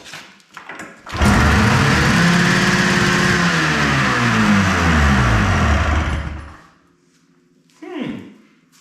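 An Arctic Cat JAG 440 snowmobile engine with a raised carburetor slide revs up loud and close, holding a steady, harmonic-rich roar for about five seconds before cutting off, with brief voices before and after.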